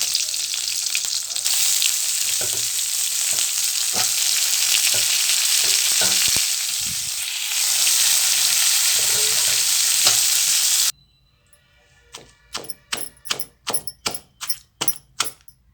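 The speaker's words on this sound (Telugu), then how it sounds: "పుదీనా ఇదంతా ఆయిల్లో వేసి ఫ్రై చేసేయాలన్నమాట" Mint, chillies and tamarind fry in oil with cumin and mustard seeds for a tomato rice dish, giving a loud, steady sizzle for most of the clip, then sharp, rhythmic clicks and taps as the frying cuts out.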